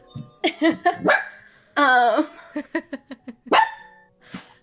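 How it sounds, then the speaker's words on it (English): A small dog barks close by indoors in a rapid burst of sharp yips, then a longer whining bark and more quick barks, loud and near. "sorry about the barking."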